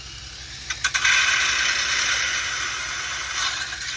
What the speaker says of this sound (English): I'm getting a little sander.